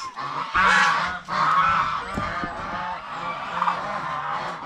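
Geese honk loudly and repeatedly at close range, harsh nasal calls overlapping in bursts with brief pauses between.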